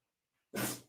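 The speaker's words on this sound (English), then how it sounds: "my dog is sneezing over here" A dog's single short, breathy sneeze indoors, sudden and close, a brief burst of air after near silence.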